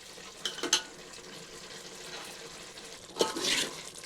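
Paneer curry with coriander and grated paneer being stirred in a pan, a spoon scraping in a few separate strokes with soft sizzling between them and a louder burst of stirring near the end.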